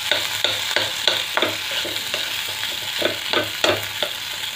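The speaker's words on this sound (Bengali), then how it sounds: "এটাকে একটু ভাজবো আর ভেঙে ভেঙে দেবো।" Boiled medium potatoes being fried and broken up in a pan for singara filling, with steady sizzling under repeated sharp scraping and stirring strokes at a near, moderate level; no talk.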